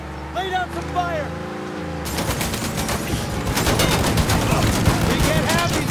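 Sustained video-game gunfire in Mafia 3, a dense rapid fusillade of automatic shots that bursts in after a brief stretch of someone speaking, continuing loud and close to the end.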